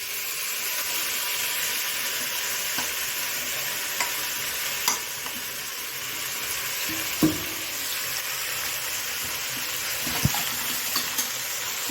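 Marinated mutton for mutton pulao fries in hot oil, giving a loud, constant sizzle and hiss with a few sharp knocks and scrapes of a stirring spoon, with no voices.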